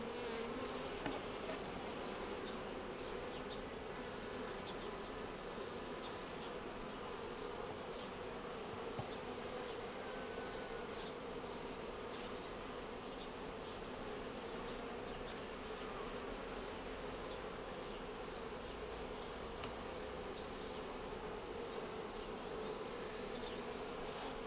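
Buckfast honey bees drone steadily at an open hive, a dense, continuous buzzing that stays close and even throughout with no talking.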